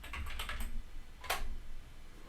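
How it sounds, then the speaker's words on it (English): Typing on a computer keyboard while configuring a Cisco router: a quick run of close, soft keystrokes followed by one sharper key press, with no voices. "So I'll just type exit,"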